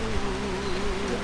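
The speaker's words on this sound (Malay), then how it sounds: "Hujan lebat guys." Heavy rain pouring at a resort in Kudat, a steady broadband wash of drops with no voices, constant and fairly loud throughout the short stretch.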